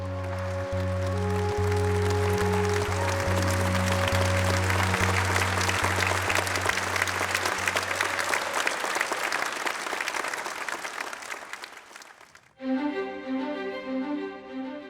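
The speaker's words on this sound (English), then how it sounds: "Please give Chef Julie Walsh and her team a huge round of applause." Guests applaud a chef and her team for a royal wedding cake, broad continuous clapping over sustained low tones, fading out before music takes over near the end.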